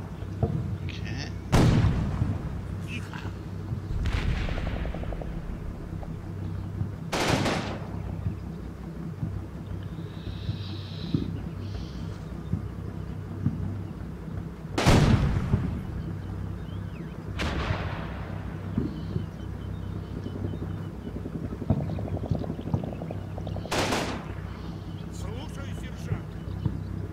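Gunfire from an infantry engagement in the Combat Mission: Red Thunder wargame, with scattered rumbling reports and sharper distant shots heard over a constant battlefield ambience.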